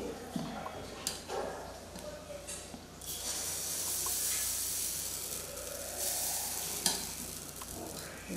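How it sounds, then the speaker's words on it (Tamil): Appam batter poured into a hot appam pan, with a broad hiss of sizzling that swells and holds, some clinks and scraping from the pan being handled, and faint background voices. "நான் இப்போ இந்த ஆப்பத்தை உங்களுக்கு ஊற்றி காட்ட போகிறேன்."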